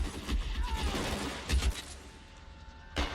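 Gunfire in a game shootout comes as several sharp cracks with low thumps, one at the start, one around the middle and one near the end, over a murky background of rumble and clatter.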